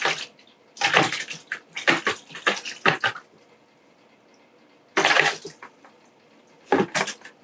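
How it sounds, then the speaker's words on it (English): A Graco Ultra QuickShot airless sprayer running clean water through, with no mesh guard fitted, lets out loud, close hissing spray bursts. A cluster of short bursts is followed by a pause and then two more bursts. "I'm going to put a bit more clean water through that now."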